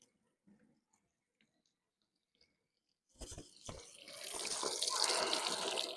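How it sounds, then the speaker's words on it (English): After a few seconds of near silence with faint small knocks, a sack of crawfish is dumped into a crawfish cleaner with water, bringing a sudden clatter followed by a loud, sustained rush of water. "got my crawfish cleaner right here, so I'm going to dump this first sack in."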